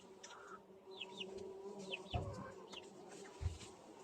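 Italian honeybees hum around an open hive frame, a low continuous buzz close by with a few passing wingbeats and faint bird chirps in the background, no speech.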